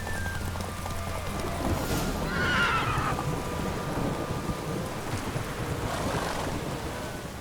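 Roach, the horse in The Witcher 3, gallops with steady hoofbeats through a continuous outdoor wash that sounds like rain, and a brief whinny rises partway through.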